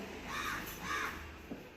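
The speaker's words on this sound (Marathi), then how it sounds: "चला आलेला आहे तो कावळा" Two harsh crow caws ring out in quick succession, moderately near, with a softer call trailing after over faint outdoor background noise.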